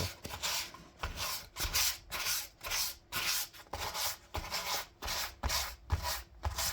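A wooden piece being hand-sanded along the grain, heard as a close, steady series of about a dozen rhythmic rasping strokes with short pauses between them and no voices.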